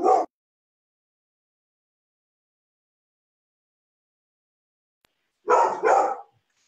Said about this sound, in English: And there go my dogs.